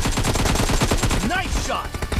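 Rapid automatic gunfire in PUBG, a dense string of loud, close shots hammering out in quick rhythm, with brief game voice sounds in the middle.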